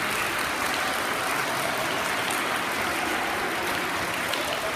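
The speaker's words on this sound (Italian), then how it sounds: "un bel applauso per lui" Sustained applause in a primary school gathering, where schoolchildren clap for a visiting Parma player; a dense, even wash of many hands that stays loud throughout with no pauses.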